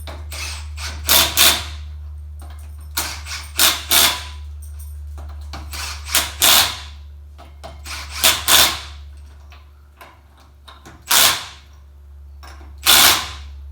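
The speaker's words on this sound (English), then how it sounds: "I'll just tighten them up with this a little bit with this little Milwaukee." A small Milwaukee power tool tightens the rear wheel lug nuts on a Ford F150 truck in a series of loud, short rattling bursts separated by pauses, close up over a low steady hum, with no talking.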